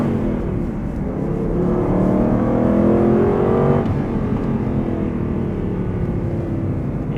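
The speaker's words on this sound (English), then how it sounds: "I just can't get over how great that engine sounds." An Aston Martin V8 Vantage S pulls hard on a winding Portuguese road, its V8 engine rising through the revs in a loud, close in-car roar, briefly dipping at a shift before climbing again.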